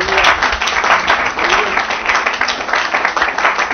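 Church congregation applauding, a dense, loud wash of clapping from many hands that holds steady throughout, with voices faintly mixed in.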